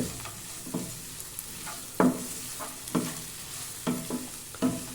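Chopped vegetables for green peas kurma sizzle steadily in a pan while a spoon stirs and scrapes them in regular strokes, close up and without talk.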